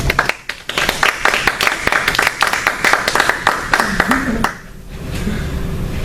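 An audience claps after a lunchtime presentation on gut dysbiosis, a brisk burst of close hand claps lasting about four seconds, then fading into quiet room murmur and a brief voice.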